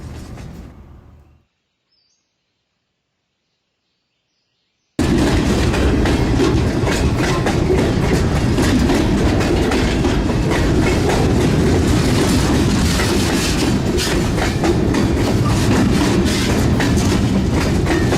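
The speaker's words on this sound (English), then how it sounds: "This train will become the Jackson turn later tonight for the run to Ironton and back." After a short silence, a model train runs steadily close by with a continuous rumble and rhythmic clickety-clack of wheels on track.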